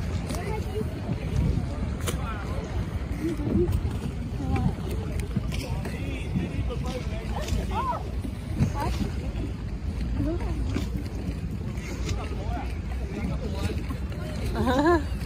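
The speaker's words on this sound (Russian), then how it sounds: "Я на гондоле Венеции." A gondola glides along a canal in Venice, with soft water lapping and wind rumble running steadily beneath people talking close by.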